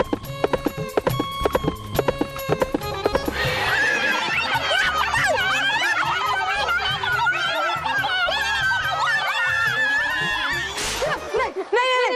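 Horses neigh and whinny repeatedly, loud and close, over a busy mix of music-like tones and other animated sounds.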